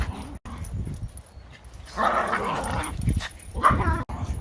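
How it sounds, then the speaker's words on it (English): Several dogs bark and yip close by, with whimpering between the barks, continuing over a few seconds with no talking. "Sorry about the dogs."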